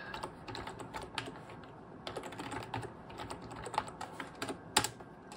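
Keys clack on a computer keyboard as a password is entered while setting up TrueNAS Core on an HP ProLiant ML115 G5, a quiet, close run of irregular taps with short pauses.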